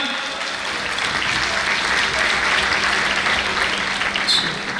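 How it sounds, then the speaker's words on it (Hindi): Loud, sustained audience applause at a Delhi award ceremony, a steady wash of clapping from a large crowd filling the whole stretch. "कृपया जोरदार तालियां हो जाए एक बार।"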